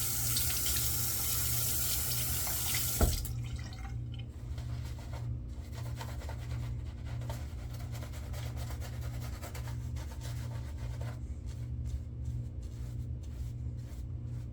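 Steady running tap water pours into a sink, a continuous broadband rush with a brief louder splash early on, no voices.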